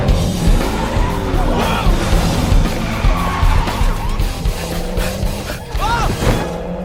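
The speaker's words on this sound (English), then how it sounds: "especially during the car chase scenes that would involve either Johnny or Mike" Car chase in the animated film Sing: roaring engines and repeated squealing, skidding tires fill the scene continuously and loudly, with bursts of rising squeals near the end and no clear talk.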